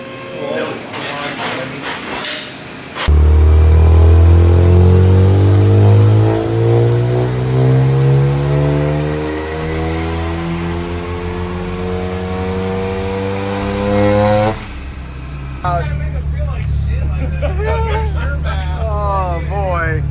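Turbocharged Mazda RX7 with a 20B rotary engine on a dyno, revving hard with a loud rising wail that climbs steadily before the throttle drops off abruptly, with people talking before and after the pull.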